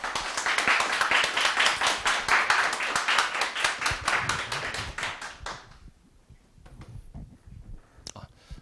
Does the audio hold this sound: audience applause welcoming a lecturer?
yes